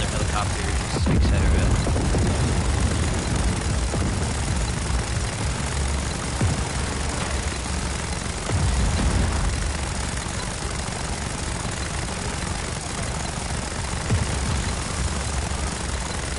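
A helicopter engine drones in the Just Cause 4 video game, a loud, continuous low rumble and rotor roar filling the whole stretch with little change, with a voice talking over it.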